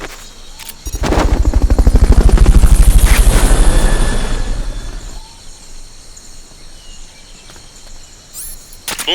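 A helicopter in the video game Metal Gear Solid: Peace Walker: a loud, fast, rhythmic rotor thumping swells in and holds for several seconds, then fades, leaving quieter ambient game sound.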